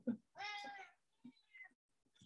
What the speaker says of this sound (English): I am here with my cats saying hello as well